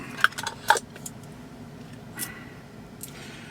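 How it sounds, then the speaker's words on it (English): A metal spoon stirring a spoonful of organic ghee into milk in a cup, giving a few brief clinks and scrapes against the side, close and fairly faint with quiet gaps between. "That's a nice spoonful of ghee. We put that in our milk. Give it a mix around."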